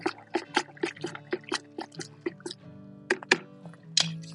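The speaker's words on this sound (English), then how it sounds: "Stir it up." A paint stick stirring wet soil in a clogged GreenStalk planter, a close run of wet squelches and sloppy drips in a loose rhythm, quiet and without talk.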